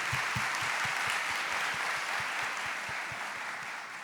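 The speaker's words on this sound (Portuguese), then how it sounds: "Vamos aplaudir a palavra de Deus nesta manhã, isso, aplauda com força a palavra de Deus." Congregation at a Catholic morning Mass applauding together, a dense, steady clapping that fills the room and holds at an even level throughout without voices.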